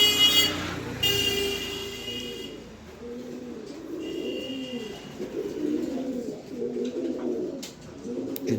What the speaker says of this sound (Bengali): এই কবুতরটা অনেক সুন্দর কবুতর একটা